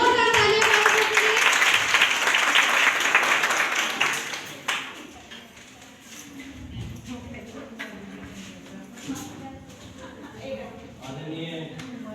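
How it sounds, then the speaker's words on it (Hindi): A college farewell party audience claps loudly for a few seconds, then the applause fades out and a speaker begins talking over quieter room noise. "एक बार जोरदार तालियां"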